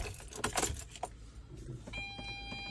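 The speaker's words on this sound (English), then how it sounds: "so if I just pop the ignition on" Ignition switched on in a Rimor Katamarano motorhome: a jangle of keys, then a steady electronic tone as power comes on, close and fairly quiet.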